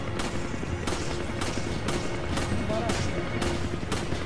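Steady, rhythmic Resident Evil 5 pistol gunshots fire roughly twice a second, loud and sharp, with a voice talking over the action.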